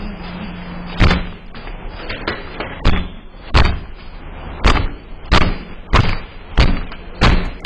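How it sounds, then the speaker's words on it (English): Repeated sharp knocks on a door, about nine distinct thuds spaced roughly evenly over several seconds, loud and close over a low steady background hum. "Just sounds like someone knocking on a door"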